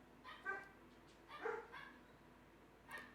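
Faint dogs bark a few times at a distance, spaced apart, with quiet background noise between the barks.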